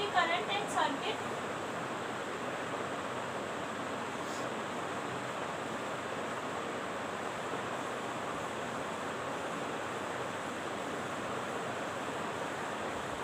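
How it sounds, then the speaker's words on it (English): Turbulent water from a mountain waterfall roars as a steady, broad rushing wash, continuous and fairly close for the whole stretch, with a brief faint clatter at the very start. "Look at this waterfall."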